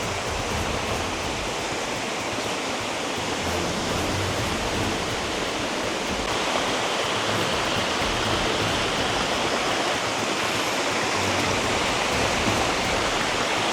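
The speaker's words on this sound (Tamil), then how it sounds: "அகெயின் இன்னொரு ஃபால்ஸு, சின்ன சின்ன ஃபால்ஸ் தான் இருக்குது இங்கெல்லாம்." A small waterfall on the Netravati Peak trek in Karnataka, a steady broadband rush of falling water, loud and close with no break throughout.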